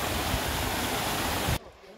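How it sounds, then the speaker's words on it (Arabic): A mountain waterfall on a high trail at about 2300 metres roars as a loud, continuous broadband rush for a second and a half, then cuts off abruptly to quiet. "دونك شلالات موجود فين تشرب مياه طبيعيه"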